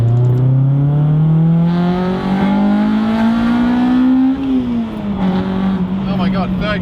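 A Honda Civic Type R EP3 with a full Spoon exhaust and Quaife LSD pulls hard on a dual carriageway, its engine note climbing steadily through the revs, dipping at a gear change, then pulling again, loud and close.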